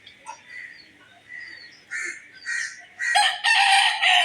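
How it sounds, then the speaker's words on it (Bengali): Chickens on a farm give a string of clucks and squawks that turn into a loud, close crowing call near the end, with short bursts between quieter gaps and no talk. "এই তোমার মুরগি যায়"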